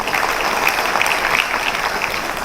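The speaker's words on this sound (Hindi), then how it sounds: "डीएक्शन के लागी जोरदार ताली।" A hall audience at a DXN business event claps loudly and steadily, a dense, continuous burst of applause with no voices over it.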